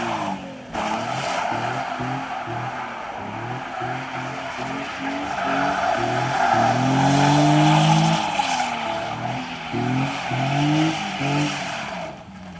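A Nissan 350Z does tire burnouts and donuts, its engine revving hard in rising and falling waves over continuous loud tire squeal and skidding that builds toward the middle and persists throughout.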